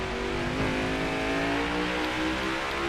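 A NASCAR race car engine screams at full throttle around the Indy Roval in the NASCAR Heat 5 video game, a loud, sustained high-pitched drone holding steady with no speech.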